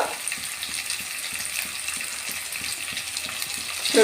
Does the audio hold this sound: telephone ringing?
no